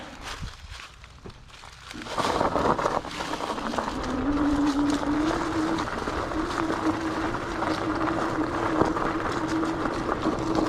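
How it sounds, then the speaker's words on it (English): A Rambo Krusader electric hunting bike climbs a hill on throttle outdoors, its motor giving a steady whining hum with rising pitch under continuous rolling and rattling noise, close and fairly loud. "just riding the throttle as much as we can. See how it does on this hill."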